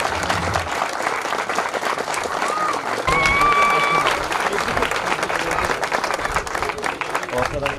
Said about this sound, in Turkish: Evet, kuvvet alkışlarınızla